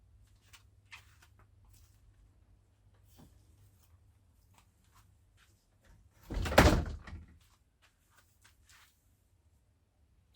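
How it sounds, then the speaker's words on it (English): Garage door pulled shut in a quiet home garage, one loud, close thud and rattle after several seconds of near silence with faint small knocks. "I'll shut the door"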